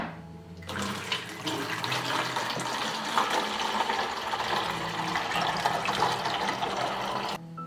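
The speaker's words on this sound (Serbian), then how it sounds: "Rupu na boci zatvorite sa prstom i sipajte vodu u flašu." Water poured through a funnel into a plastic bottle, a steady close splashing and gurgling flow that runs unbroken for several seconds, with no talk over it.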